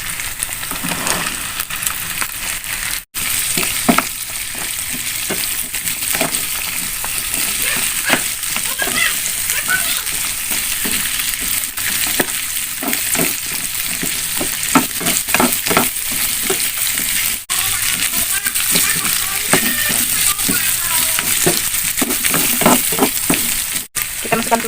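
Green beans stir-frying in a pan with egg and tempeh, a loud steady sizzle throughout with repeated scraping stirs of the spatula and faint voice in the background.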